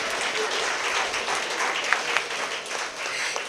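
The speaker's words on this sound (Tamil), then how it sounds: "நல்ல ஒரு பெரிய கைத்தட்டு." A crowd claps steadily at a Pongal special debate, producing a continuous wash of applause of even loudness throughout the short stretch.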